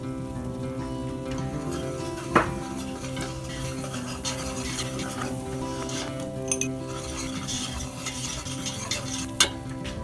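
A roux of gluten-free cup-for-cup flour is stirred in a pan for baked mac and cheese, with continuous scraping and a soft sizzle plus a few sharp utensil knocks against the pan.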